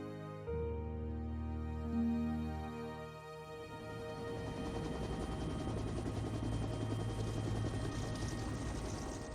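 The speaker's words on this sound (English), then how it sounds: "a new aircraft was flying off carriers, the helicopter, ideal for rescue missions" Naval rescue helicopter flying off a carrier, a strong droning rotor and engine hum that swells after a soft start and holds a steady rumbling beat, heard alone with no talk.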